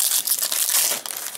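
Crinkly wrapper of a Cryptozoic Big Bang Theory Season 5 trading card pack being torn open, a close, continuous rustle and crackle lasting just over a second.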